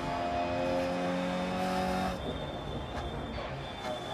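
A MINI Cooper S in DiRT Rally at Rally Monte-Carlo, engine droning loudly and then dropping off as the tires skid through a handbrake drift, with scrubbing squeal and road rumble.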